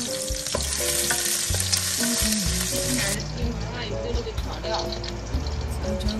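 Ginger pieces stir-frying in hot oil in a wok, a steady loud sizzle with stirring scrapes, while a voice talks and music plays over it.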